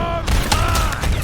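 Gunfire in the video game Starfield comes as a quick burst of sharp, loud shots that follow a brief tone, dense and close within about a second.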